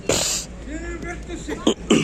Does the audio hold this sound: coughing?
yes